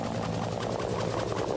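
An AH-1 Cobra attack helicopter drones in a steady, loud, unbroken rotor and engine roar, dense low rumble with a continuous wash of higher noise, close and unvarying throughout.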